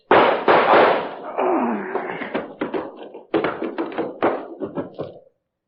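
A 1940s Boston Blackie radio drama has a voice imitating gunshots, speaking a quick run of sharp, punchy bangs, loud and close with short pauses between bursts.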